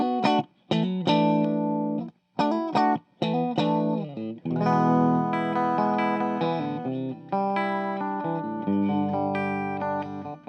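A 2018 Gibson SG with three P90 pickups played through heavy distortion and modulation effects, with choppy chords followed by sustained, ringing notes and bends.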